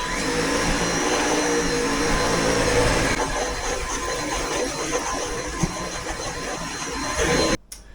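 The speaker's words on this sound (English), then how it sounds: "I'm going to vacuum the carpet, vacuum the whole coach" Dyson cordless vacuum cleaner running on carpet, a loud continuous motor whine and suction roar that shifts tone partway through as the head moves, then cuts off abruptly at the end.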